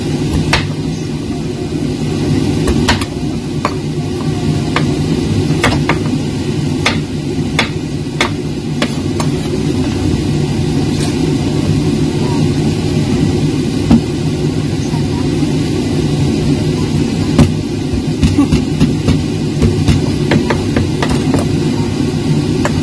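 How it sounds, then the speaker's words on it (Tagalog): A noisy kitchen exhaust fan runs with a steady, loud low drone throughout, and scattered clicks and knocks come over the hum. "Maingay yung aking exhaust fan"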